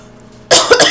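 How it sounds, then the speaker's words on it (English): A single close, loud cough bursts out abruptly after a quiet moment, with a brief second heave trailing it. "I'm coughing my brains out for about 5 minutes before it goes away."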